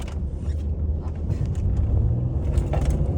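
A Mercedes-Benz GLS 350d 3.0 diesel 4MATIC SUV accelerates gently, heard from inside the cabin as a low, steady engine rumble with faint mechanical creaks.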